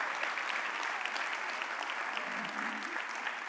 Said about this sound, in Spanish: así que aplaudan o algo, aunque sea